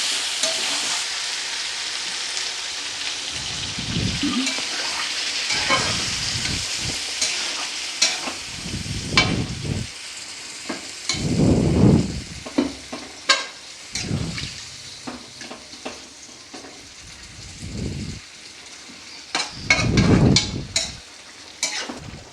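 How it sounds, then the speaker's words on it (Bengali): Chicken curry with potatoes stirred in a hot pan, with a steady close sizzle, bursts of scraping and stirring strokes, and louder hissing surges where water hits the hot pan. "দিয়ে কিছুক্ষণ নাড়াচাড়া করে আমি জল ঢেলে দিলাম"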